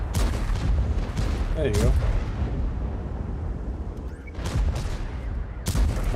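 Cannon fire striking dirt in a tank battle game, with several heavy booming impacts amid constant rumbling battle noise and a voice speaking briefly.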